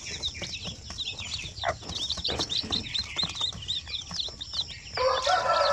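Native Zampen chicks and chickens cheep and cluck constantly in a pen, with dense overlapping peeps near and far and a few louder clucks toward the end.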